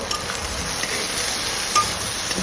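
Pumpkin cooking in a pan with salt, cumin powder, coriander powder and turmeric, a steady soft sizzle with faint stirring ticks and one brief clink, close and continuous.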